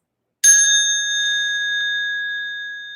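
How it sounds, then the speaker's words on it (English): A single struck bell or singing bowl opens a yoga class, ringing out with a bright attack and then a long, steady, slowly fading sustain of clear tones, heard alone with no talk. "I like to start my class with a little sound of bells, so hopefully you can hear this."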